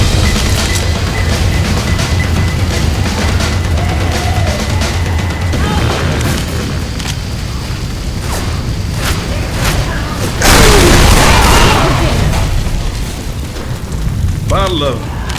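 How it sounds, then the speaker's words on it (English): Grenade blast in the video game Left 4 Dead 2, a loud burst of broadband noise near the middle amid continuous busy game ambience, with faint voices around it. "Grenade!"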